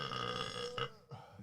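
A single loud, guttural burp rumbles close to the microphone, drawn out over about a second.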